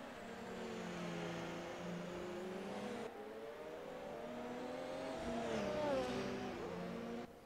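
A race car engine in the ACRL WEC sim race at the Nürburgring holds a steady high drone down the main straight, its pitch rising and falling slightly as it slipstreams. Quiet and continuous, with a commentator's voice faint underneath.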